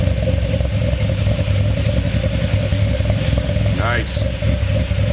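A car engine, running rich after a cold start, idles with a steady throbbing drone and faint clatter, a short warbling rise near the end, while a person talks over it.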